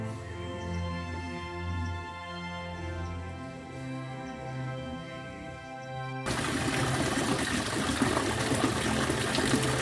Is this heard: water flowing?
yes